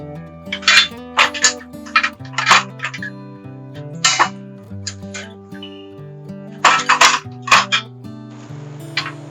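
Metal legs for a Billie BBQ campfire pit clink and rattle as they are pulled out of a zippered bag, giving a series of bright, close metallic taps and knocks in irregular bursts.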